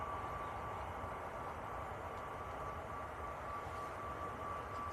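A distant airplane at Manchester Airport on Boxing Day, heard as a faint, steady broadband roar that holds evenly throughout, with no talk over it.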